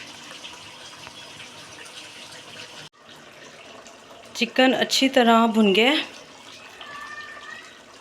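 Boiled water from a kettle poured into a pot of chicken korma, a loud splashing gush lasting under two seconds, bracketed by someone speaking in a kitchen.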